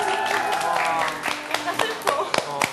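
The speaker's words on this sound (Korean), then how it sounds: "여러분, 큰 위로의 박수" Studio audience applause on a Korean variety show, a short spell of clapping under and between speaking voices, with a few distinct claps standing out near the end.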